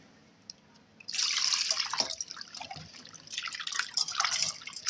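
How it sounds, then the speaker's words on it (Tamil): Water splashes and sloshes in a bowl as raw prawns are rinsed by hand, a steady wet swishing that starts abruptly after a quiet moment and continues in uneven bursts, close up with no talk. "இதில் வந்து தண்ணி ஊற்றி ஒரு 2-3 முறை நல்லா அலசி எடுத்துருங்க."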